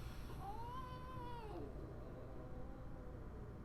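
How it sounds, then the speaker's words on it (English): A house cat gives one long, drawn-out rising and falling meow, fairly close and clear, ending around the middle and followed by quiet room tone. "this is my cat"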